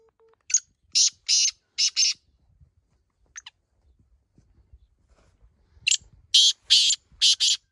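Teetar partridges in a village call in short bursts of high, clear chirps, a cluster of four notes, then a single note and a second cluster after a quiet gap, with faint rustling between.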